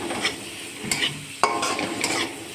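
Ground yardlong beans and prawn paste with garlic and chilli being stirred into browned onion in a hot pan: steady scraping stir strokes over a soft sizzle, close and moderately loud, with no talking.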